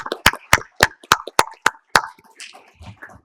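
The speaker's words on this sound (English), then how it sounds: "So a big round of applause to the 58 contributors and the paper." Seven sharp, evenly spaced hand claps ring out close by at an awards ceremony, followed by a faint murmur. They sound like one or two people clapping, not a full audience.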